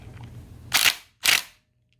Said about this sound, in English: I'm just going to hit it with my electric impact wrench real quick